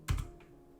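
A short burst of computer keyboard typing, a few quick close keystrokes followed by a single softer key press, quiet and alone.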